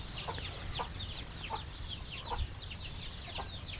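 Chickens on a village farm cluck in short, repeated calls that run steadily over a low rural background hum, at moderate distance with no talking.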